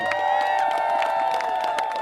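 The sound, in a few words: crowd applause and cheering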